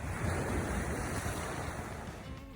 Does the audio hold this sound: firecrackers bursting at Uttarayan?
no